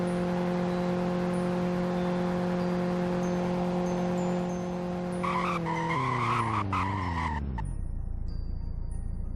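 A car in the Roblox game Greenville braking hard from 100 on a slippery snowy road, a loud steady engine tone that drops in pitch as the tyres screech and skid before the car stops, with no talk.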